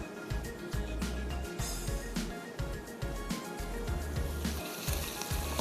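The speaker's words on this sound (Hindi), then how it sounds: "प्याज को तो आपने धीमी आंच पे गोल्डन कलर देना है" Onions fry over a low flame for a garlic mutton biryani, giving a steady, fairly close sizzle with soft crackles and a few low thumps, and no talking.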